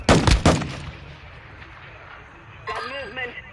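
Gunfire in Call of Duty: two loud, close shots or a short burst at the start, then a ringing decay, with a voice speaking near the end.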